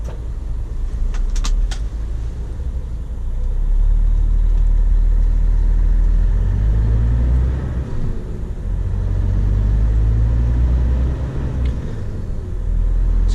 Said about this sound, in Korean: 제 차 엔진 소리 들리시죠?